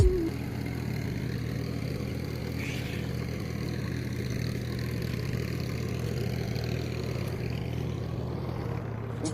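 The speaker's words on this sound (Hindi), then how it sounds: "हम लोग का खेत में अभी ट्रैक्टर लगा दिया है मारने के लिए। ये देखो अभी हल मार रहा है।" A tractor ploughs a farm field, its engine giving a steady, even mid-pitched drone with a rattly clatter, moderately distant and unbroken for the whole stretch.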